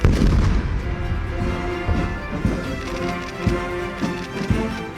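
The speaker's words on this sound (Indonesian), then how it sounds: "Dentuman meriam sebanyak 21 kali turut menandai penghormatan kepada Presiden Prabowo." A ceremonial 21-gun cannon salute fired at a state welcome for President Prabowo at the Istana Negara, with repeated heavy booms that roll and echo over a dense, continuous low rumble.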